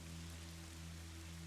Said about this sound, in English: I don't know if the rain comes through on stream, because it's a very, very light effect.